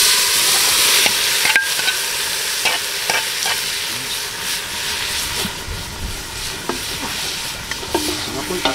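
Squid dropped into a hot pan with onions while cooking pancit sizzles loudly and steadily, with occasional sharp clinks of a utensil against the pan.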